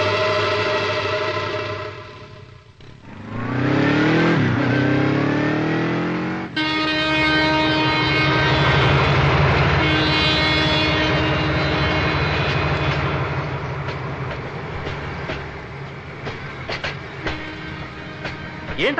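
A train passes at a railway station in a Telugu film scene: a loud, sustained rumbling roar with a rising and falling horn-like tone early on, then a steady heavy rush that slowly eases.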